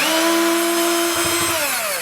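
A WORX Switchdriver cordless drill whirs at a steady, loud pitch, then its motor tone slides downward as it winds down near the end, heard alone without speech.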